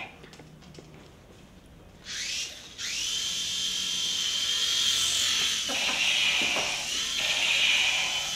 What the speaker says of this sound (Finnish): Helikopterilla lennetään, niin kuin nyt helikopterilla lennetään.